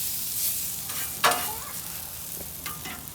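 Green peppers fry on a Blackstone 28-inch griddle, a steady soft sizzle broken by a sharp scrape of a spatula and a few lighter scraping touches.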